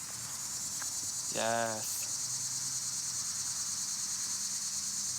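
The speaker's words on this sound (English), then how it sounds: "Or are those like crickets or something? Yes, cicadas." Insects, named as cicadas, trill steadily at night beside a backyard firepit, a continuous high buzzing that stays constant throughout while a person briefly speaks.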